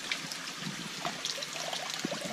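Thin stream of water trickling into a one-litre jug, a steady soft splashing pour heard close and alone, with a few brief brighter spatters.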